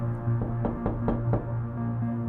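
Knocking on a closed door: four or five firm, evenly spaced raps close by over a steady low background hum, with no talk.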